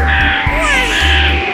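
A bird gives harsh, scratchy caws in a steady run, loud and close, over a continuous background hum.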